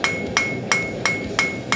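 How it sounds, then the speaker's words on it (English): A blacksmith's hammer falling onto metal on an anvil, six bright, ringing clinks evenly spaced at a steady rhythm, close and loud, with a sustained metallic tone between strikes. "I'm basically letting the hammer fall."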